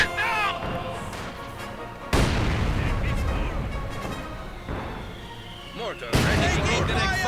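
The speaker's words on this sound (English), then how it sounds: "No, he's just mortaring regularly." Mortar shells thud and explode in a World War II strategy game, several booming impacts with rumbling tails spread across the clip, heard beneath a commentator's voice.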